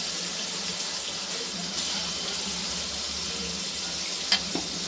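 Washed pieces dropped onto a hot tava give a steady, close frying sizzle that holds evenly throughout, with a brief sharper crackle near the end.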